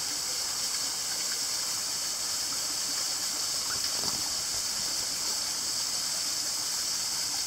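A small waterfall flows on a Malaysian landowner's land, giving a steady, even rushing hiss at moderate distance that continues unbroken throughout.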